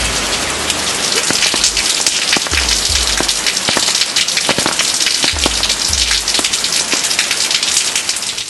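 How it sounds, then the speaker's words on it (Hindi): Heavy rain pours down at night in Delhi, a loud dense hiss of drops with scattered sharp splats and patters on surfaces, steady and continuous throughout with no talk. "रात को जब आप सो रहे थे तब दिल्ली में झमाझम बारिश हो रही थी"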